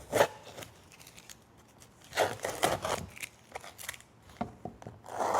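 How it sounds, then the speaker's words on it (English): Masking tape being peeled off a painted kids' craft project, several short ripping and crackling tugs in bursts, close and fairly loud, with quieter gaps between pulls. "you're just going to peel away all your masking tape"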